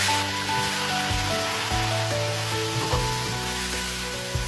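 Cod pieces fry in a wok of soybean oil with melted mala seasoning, a loud, continuous sizzle broken by repeated scraping stirs of a spatula, close up and with no talking.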